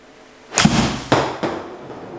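An 8 iron strikes a golf ball with a loud sharp crack during an indoor SkyTrak launch monitor demo. Two more quick thuds follow close behind.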